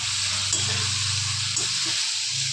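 Close, steady hiss and sizzle of soaked, drained onion slices frying in oil for biryani, with soft stirring scrapes and a low hum underneath.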